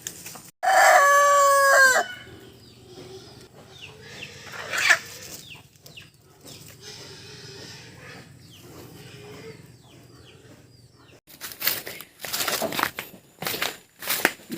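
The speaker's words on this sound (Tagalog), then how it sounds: "Ayan yung ibang manok nasa loob." A rooster crows loudly and close at the start, followed by quieter chicken clucks and farmyard rustling on a mountain farm, then bursts of louder noise near the end.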